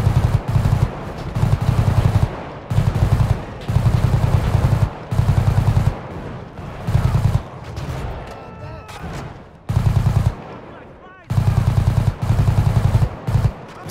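Bursts of automatic gunfire in a GTA V gang war, loud repeated volleys separated by short pauses, one after another.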